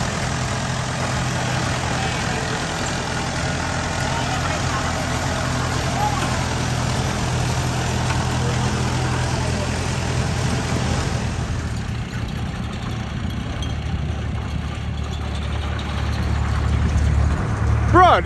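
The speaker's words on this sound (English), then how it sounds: "This is a turbocharged rice tractor that rolls coal." A heavy turbocharged diesel rice tractor engine in Thailand rumbles steadily at idle, deep and loud, with a faint revving rise toward the end.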